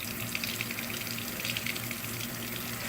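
Water runs steadily through the motor of a Tracker Pro 170 boat during a flush, a continuous gushing hiss with a low pump hum underneath, close and loud without pause.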